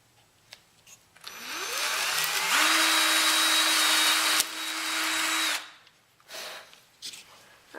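A power drill boring holes in a small mousetrap build, spinning up with a rising whine, holding a steady high-pitched drone for a few seconds, then stopping, framed by light handling taps.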